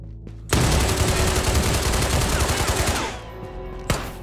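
Rapid automatic AK rifle fire in the shooter game Ghosts of Tabor, a loud, dense burst of shots lasting about two and a half seconds, followed by a single later shot.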